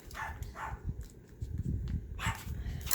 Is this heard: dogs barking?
yes